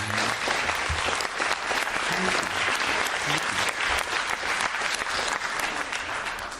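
Loud, dense audience clapping at a talk in Halifax, sustained evenly across the whole stretch with scattered faint voices in the crowd beneath it.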